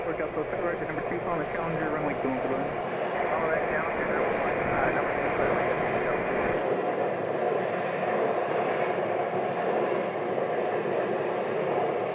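A NetJets Bombardier Challenger 350 business jet on the ground at an airport gives off a steady broad whine and roar at some distance, with a person talking over it throughout.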